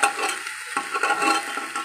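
Beetroot sautéing in a pan for vegetable chops: a near, continuous sizzle with brief stirring scrapes, briefly dipping before resuming.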